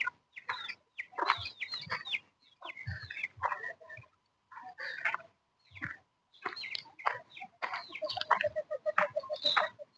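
Chickens on a small farm cluck and chatter nearby in irregular bursts, several birds overlapping at moderate volume with brief pauses between calls.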